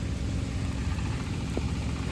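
A tractor churning a muddy field hums with a constant low engine rumble that stays even throughout, with a faint brief knock near the end.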